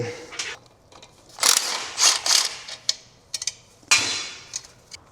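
Bursts of a power tool buzzing in short spurts, mixed with clicks and metallic rattles, as the clutch comes off a Nissan S13 in a shop, close and without talk.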